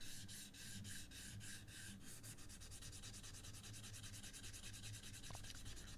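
Hand sanding with 400 grit sandpaper on a model car body, with rapid back-and-forth rubbing strokes in a steady rhythm, close and soft, continuing throughout with no talk.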